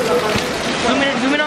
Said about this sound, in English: It's just dumping out rain right here